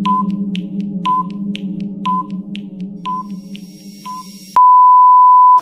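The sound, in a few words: puzzle timer beeping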